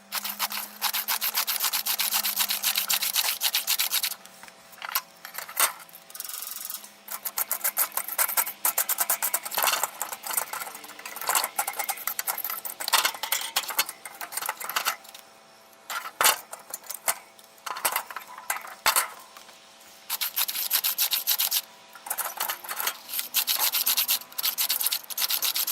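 Ash is scraped and brushed out of a smoker grill, continuous rough rasping and rubbing strokes close up, broken by short pauses, with no talking.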